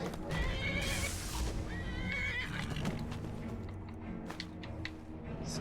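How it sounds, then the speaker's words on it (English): A horse in the game Skyrim whinnies loudly while being electrocuted, its shrill neighing rising and falling over hoof clip-clops, followed by sharp crackling bursts and a few scattered thuds. "Zago, are you electrocuting that poor horse?"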